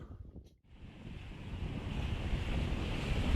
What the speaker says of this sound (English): we're underway sailing now